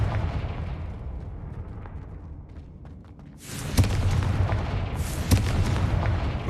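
A Confringo fire spell in Hogwarts Legacy bursts with a booming explosion, followed by a second blast about a second and a half later, both loud and close over rumbling game ambience.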